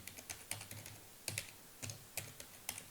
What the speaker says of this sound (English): We will type password here.